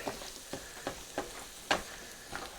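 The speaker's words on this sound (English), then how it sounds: "I just wanna cook the flour a little bit, get the rawness out of it" Flour cooking in oil in a pan, with a soft steady sizzle and a few light scrapes of stirring, close and quiet.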